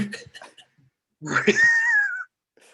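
A cat lets out a single drawn-out meow that rises and then falls, with brief bits of speech just before it.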